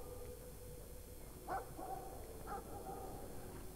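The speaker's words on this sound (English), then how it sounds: "Looks like we've got to find some way to distract that dog." A dog in the video game Brothers: A Tale of Two Sons gives two short barks about a second apart over steady low background game ambience, faint and somewhat distant.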